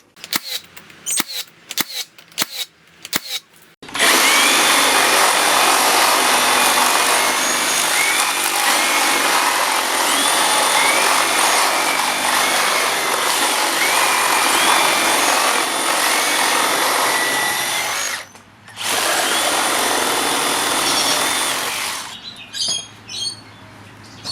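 A cordless reciprocating saw cuts through framing timber with nails embedded in it. A few sharp knocks come first, then a loud, steady buzzing roar runs for about twenty seconds, broken by one brief pause, before it ends in scattered clatter.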